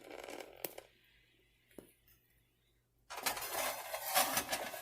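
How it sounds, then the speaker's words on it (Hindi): A pan is set down in a home kitchen with a couple of light metallic clinks, followed after a pause by a longer stretch of louder, close clattering and scraping of cookware. "तो यहाँ पे हमने रखा है एक पैन"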